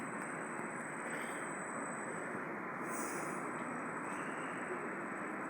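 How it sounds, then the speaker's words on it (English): A train approaches a small-town station platform in Beccles, Suffolk, heard as a steady broadband rumble and roar of wheels on track at moderate distance, with a faint high whine above it; no talking. "I think the train's early, so it's coming now."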